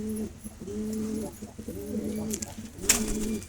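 Kept pigeons coo in four repeated, rhythmic bursts close by, with a faint sharp click near the end.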